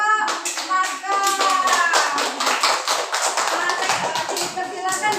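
Classroom group of children clapping for a student group after their discussion work, a dense steady patter of many hands, with children's voices and a teacher's singing-like tones audible over it throughout.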